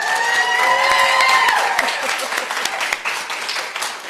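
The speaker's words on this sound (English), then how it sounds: "And then let's clap because it's Pride Weekend." Church congregation clapping and cheering for Pride Weekend, a dense, sustained wash of applause with whoops and voices mixed in, steady and loud across the whole stretch.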